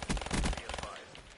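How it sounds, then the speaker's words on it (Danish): Rapid automatic gunfire from the shooter video game Call of Duty Black Ops 3, loud dense bursts in the first half that thin out toward the end, with a voice talking underneath. "Skud."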